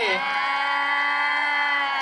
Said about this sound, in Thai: ขอเสียงกรี๊ดเป็นกำลังใจให้กับเกสของเราด้วย